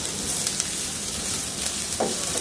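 Thin-sliced potatoes and onion fry in a pan for a fish chorchori, a dense, steady sizzle and crackle close by with a brief stirring scrape near the end.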